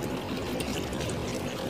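A weak flow of water splashes and trickles while a small home vegetable garden is being watered, giving a steady, soft pouring sound with no voices over it.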